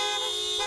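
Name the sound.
car horns beeping at drive-by parade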